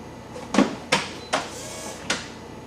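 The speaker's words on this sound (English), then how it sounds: "You hear the pump running." Hydraulic steering autopilot pump aboard an Odin 820 boat, running in four short, quiet whirring bursts spaced roughly half a second apart.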